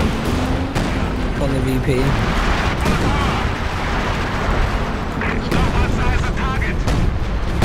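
Artillery pounds away in a 3v3 match of the strategy game Company of Heroes 2: repeated heavy booms and rumbling blasts under continuous talking players.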